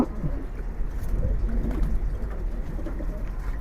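An aggressive female pigeon of the Napta line coos in low, steady murmurs, close by and alone against a constant low rumble.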